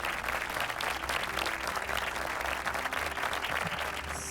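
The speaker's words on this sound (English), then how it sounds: "Can we have another round of applause for our debaters?" An audience at a university debate applauds after the debaters finish, with dense, steady clapping from a crowd filling the space.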